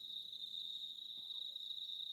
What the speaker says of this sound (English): As you can hear, all the crickets and everything.